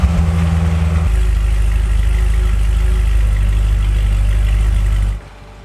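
A car engine runs loud and close at a steady idle, with a deep low rumble that shifts slightly after about a second and holds even until it cuts off near the end.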